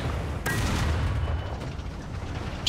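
A single heavy IS-3 tank cannon blast in War Thunder, with a sharp crack and booming low rumble, followed by a lingering rolling echo and battle ambience.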